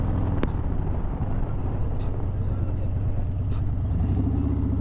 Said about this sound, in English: my exhaust is very loud and it washes out the mic